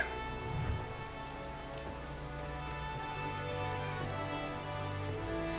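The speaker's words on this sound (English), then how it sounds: "Apologies for the rain." Steady rain falling in the video game Final Fantasy XIV, a constant soft hiss of drops on surfaces that continues throughout beneath sustained in-game music tones, with no talking.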